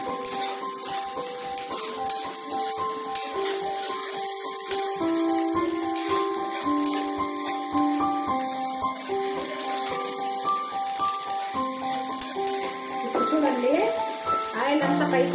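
Masala fries and crackles in a pan for a homestyle chicken curry, a steady sizzle that runs beneath a melodic music track throughout.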